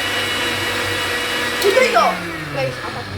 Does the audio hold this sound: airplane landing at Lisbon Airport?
no